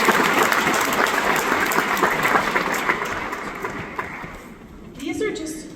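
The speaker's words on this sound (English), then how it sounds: "Let's thank our families and guests here today with a massive round of applause." Graduation audience applause for families and guests, a loud burst of crowd clapping that gradually fades over several seconds before a voice resumes near the end.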